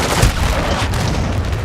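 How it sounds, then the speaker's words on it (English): A deep, rumbling cruise missile blast from a Call of Duty match, loud and continuous, with booming low-end explosions filling the short stretch. "Hostiles launched a cruise missile."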